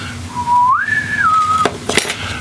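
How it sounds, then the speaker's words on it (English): A naval boatswain's whistle gives a single clear, piercing tone that rises in pitch, holds, then steps down before cutting off, followed by a couple of brief sharp clicks, close and loud. "There's a naval boatswain's whistle"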